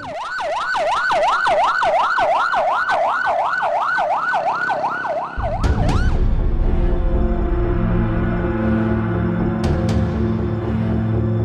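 A wailing ambulance siren in a Pakistani TV drama rises and falls loudly and steadily for about five seconds, then cuts to a dense, loud mix of other sound.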